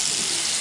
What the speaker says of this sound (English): we turn on the hot water and see great pressure underneath